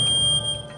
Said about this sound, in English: the photoelectric sounds the alarm